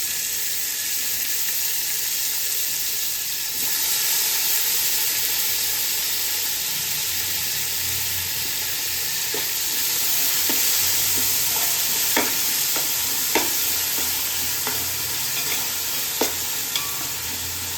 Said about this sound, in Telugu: సో ఇప్పుడు మనము కట్ చేసుకున్న టమాటోస్ ఇందులో వేసేసుకుంటాం.